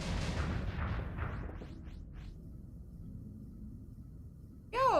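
Ship weapons on auto fire in the space game Starsector thud and boom in a quick burst of rumbling shots that fade out, followed by a quiet lull and then a sudden bright electronic warble at the end.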